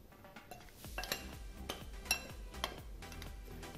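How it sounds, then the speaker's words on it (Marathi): A spoon mixes flour with two tablespoons of hot ghee for karanji dough, giving a steady run of soft scraping and light clinks against the bowl, quiet and close. "आपण 2 टेबलस्पून साजूक तूप कडकडीत करून घेतले आहे ते ह्यात घालूया आणि चमच्याने मिक्स करूया"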